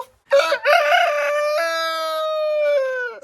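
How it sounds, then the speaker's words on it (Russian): A rooster inside an enclosure crows once, a loud, close, drawn-out call lasting about three seconds with no other sounds around it. "Петух сидит в вольере"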